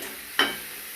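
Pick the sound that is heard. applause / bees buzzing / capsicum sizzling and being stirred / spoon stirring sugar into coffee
capsicum sizzling and being stirred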